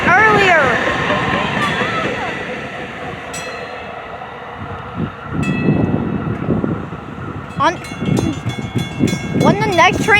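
A train rolls through a railway station, a rumbling wheel-and-rail roar with squealing, metallic screeches and rising clatter toward the end, loud and near.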